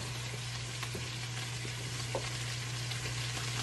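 Chicken and vegetables fry in a pan after water is poured in, giving a steady, dense sizzle with faint crackles and a low hum underneath, no voices.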